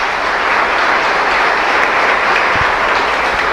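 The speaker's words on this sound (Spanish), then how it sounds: "Fuerte aplauso para nuestra comunidad" Church congregation applauding loudly during a live Mass at a parish, a dense steady roar of clapping filling the space without pause, with no talk over it.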